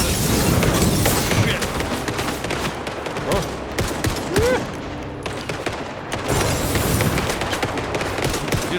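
MG42 machine gun fire in the video game Indiana Jones and the Great Circle: loud rapid bursts crack out in repeated volleys, broken by brief pauses, amid other game noise.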